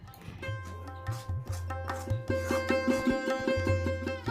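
Cooked masoor dal being mashed in a pot, a steady series of soft thudding, squelching strokes repeating close by under a faint musical background.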